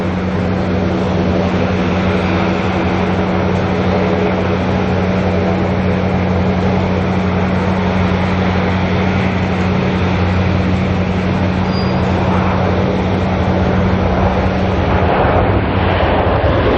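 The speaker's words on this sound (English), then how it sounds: "there she is, NZ9, the 787 Dreamliner" An Air New Zealand Boeing 787 Dreamliner, flight NZ9 in from Honolulu, arrives at Auckland Airport with a loud, steady engine roar and a sustained low hum that swells slightly toward the end.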